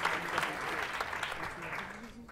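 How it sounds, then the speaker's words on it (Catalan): An audience at a televised school spelling quiz applauds a team's points with a sustained, moderately loud clatter of many hands, while a presenter's voice carries faintly over it. "un aplaudiment per aquests 160 punts"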